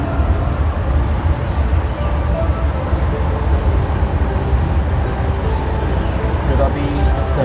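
Constant low rumble and rolling noise of the Tegal Bahari passenger train running in toward Tegal station, heard from inside the carriage, steady with no clear breaks and a faint voice underneath.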